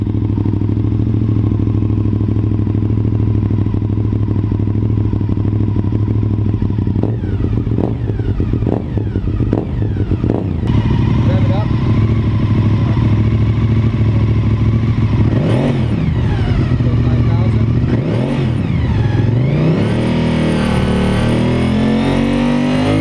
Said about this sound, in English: the one thing we haven't done is actually ran the bike to see if the charging system still works